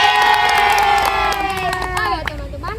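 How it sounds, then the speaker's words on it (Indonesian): A hall full of high school students erupts in loud cheering and shouting, a dense crowd roar sustained with excited voices rising over it throughout. "Beri tepuk tangan buat kita semua."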